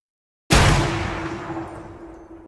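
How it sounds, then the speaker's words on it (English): Standard gunshot sound effect sample: a single sharp, loud bang after brief silence, with a decaying ringing tail that fades over about two seconds. "We have a tape stop, which was my original idea, broken glass, or the standard gunshot."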